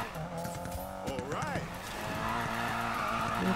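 A Subaru BRZ drifts in Need for Speed Payback. A revving engine rises and falls in pitch over a steady drone, with tire squeal woven through and a voice talking over it.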